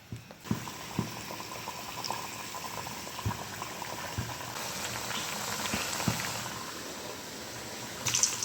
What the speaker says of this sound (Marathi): आता एक एक करून तळून घेते लगेच.